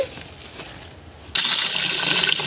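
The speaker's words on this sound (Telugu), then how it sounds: "ఇప్పుడు వాటర్తో బాగా శుభ్రంగా రెండు మూడు సార్లు వాష్ చేసుకుందాము" Water gushes suddenly into a bowl of flattened rice (poha) being rinsed, a loud steady splashing pour that starts after a moment of quiet handling sounds.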